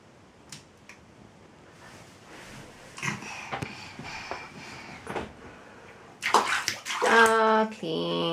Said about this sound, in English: Washing the foot.